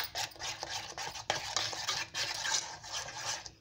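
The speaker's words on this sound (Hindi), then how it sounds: "इसको थोड़ी देर और मैं इस तरह से फेंट लूँगी" Batter paste for eggplant pakoras is whisked by hand with water, a steady run of quick scraping, clicking strokes against the bowl, close and fairly loud, with no talking.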